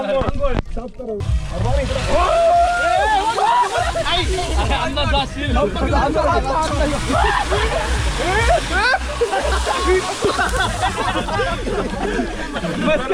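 Water gushing and splashing from a borewell pump on a farm, a continuous loud churning slosh with people chattering and shouting over it throughout.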